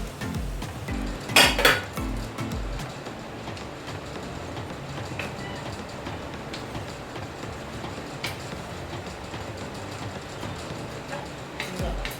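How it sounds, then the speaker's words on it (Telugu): A metal lid clatters briefly onto a cooking pot of amaranth leaf curry near the start, then a low, steady kitchen rumble continues with occasional faint clinks and a hint of a voice. "నేను దీని మీద కొద్దిసేపు మూత పెడతాను"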